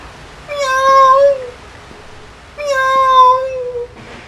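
Two drawn-out cat meows from a Chinese horror video game set on a cursed abandoned floor, each rising then sliding down, loud and close with a short pause between them.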